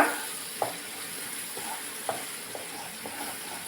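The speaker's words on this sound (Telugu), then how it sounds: "బాగా వేగిన తర్వాత చిటాపటా వస్తుంది" Onion paste frying in oil in a pan, a steady crackling sizzle with occasional sharper pops and light stirring scrapes, close and continuous with no talk.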